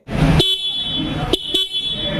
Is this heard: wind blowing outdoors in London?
no